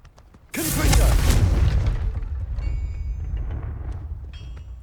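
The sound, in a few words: Confringo spell explosion, video game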